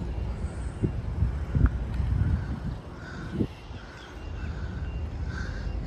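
A crow at Khor Fakkan fort in the UAE caws several times in a broken series, moderately near, over light wind noise, with no speech.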